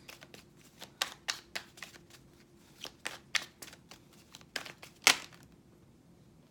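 Tarot cards shuffled by hand in close, crisp papery bursts of riffling and sliding, uneven in rhythm with brief pauses between, one louder snap near the end, and no voices.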